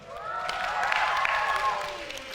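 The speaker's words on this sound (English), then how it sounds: "Yeah, you can cheer for your school." A youth-week crowd cheers loudly for their schools, a dense wash of yells, whistles and clapping that holds steady throughout.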